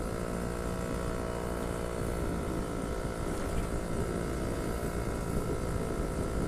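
A Suzuki Satria 120R two-stroke motorcycle runs under way at an easy pace, giving a loud, unbroken buzzing drone with a steady rough texture throughout and no voices.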